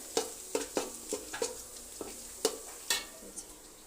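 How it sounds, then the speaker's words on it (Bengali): Onions frying in a pan for pulao, with a spoon scraping and clacking against the pan in a quick irregular series of sharp strokes over a low sizzle, no talking. "এই যে পোলাও রান্না করার জন্য পেঁয়াজ ভাজতেছি।"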